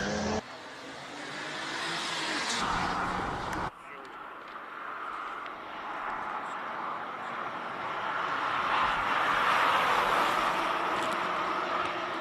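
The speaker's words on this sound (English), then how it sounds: "Little Volvo C30 all the way up the hill." A Volvo C30 race car, T5R design, number 11, climbs a hill at a King of the Mountain event in Cape Town, its engine droning steadily and building in the distance while a commentator talks throughout.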